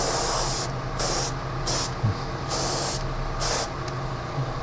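Short bursts of airbrush spray painting scale models, hissing on and off in quick succession, close by, with brief gaps between each puff.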